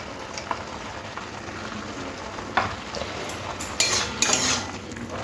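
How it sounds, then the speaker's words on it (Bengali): Spice paste being stirred into bottle gourd greens in a pan, with light scraping and clinks of a utensil against the metal over a soft, steady sizzle, growing busier toward the end. "মশলাটা শাকের সাথে একটু ভালো করে মিশিয়ে নিতে হবে"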